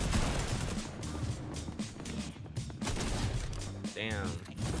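Rapid gunfire crackles in a Fortnite match, dense bursts running almost nonstop and fairly loud under excited player chatter.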